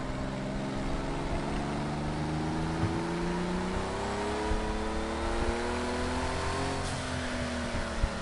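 A vintage race car engine in the racing game Project CARS 2 drones steadily for the whole stretch, its layered tones climbing slowly as it revs higher, with no one talking.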